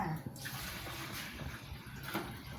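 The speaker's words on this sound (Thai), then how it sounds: "พอเสร็จแล้วก็ลดน้ำ อ่าก็ลดน้ำให้มันชุ่มๆแค่นั้นแหละค่ะ" Water poured onto the soil of a freshly planted snake plant, a soft continuous splashing trickle close by, fairly quiet and steady.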